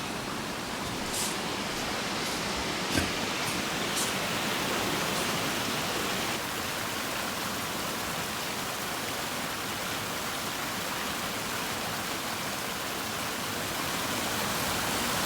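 Turkey Brook flowing beneath a footbridge, a steady broadband rushing of water that stays constant and fairly loud throughout, with a few faint clicks near the start.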